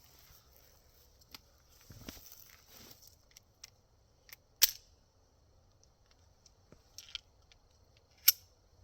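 Glock pistol being cleared of a live round, with a few sharp metallic clicks and clacks of the slide and handling, separated by quiet pauses.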